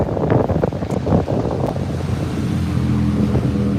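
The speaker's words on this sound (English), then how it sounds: "the very loud motorcycle came in" A very loud motorcycle rumbling past close by, a steady broad roar with low engine drone filling the whole stretch, no voices over it.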